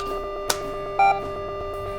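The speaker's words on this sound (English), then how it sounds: "Bell." A short electronic bell chime from the Leisure Suit Larry: Reloaded video game rings once, clear and tonal, alongside other brief game blips and a soft musical background.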